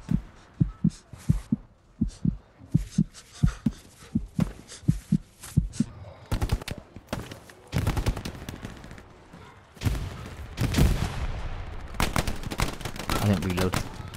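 Gunfire in a Hell Let Loose battle, opening with a series of sharp evenly spaced shots, then giving way to dense bursts and heavy blasts that rise into loud continuous combat noise.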